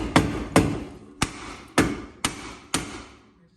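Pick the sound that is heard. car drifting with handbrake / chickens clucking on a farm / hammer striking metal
hammer striking metal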